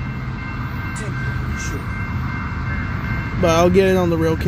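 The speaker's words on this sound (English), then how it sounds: "But here comes another train." An eastbound Union Pacific manifest freight led by locomotive 7278 approaches at Massingale Road, a low steady rumble building with a horn sounding near the end, while a person speaks briefly over it.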